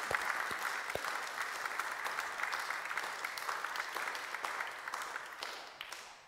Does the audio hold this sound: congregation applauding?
yes